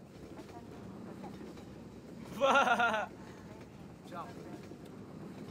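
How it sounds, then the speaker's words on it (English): A train passing in Half-Life 2 gives one short, loud, horn-like burst in the middle that cuts through a low ongoing rumble, while people chat over the game. "Crap, the train's coming."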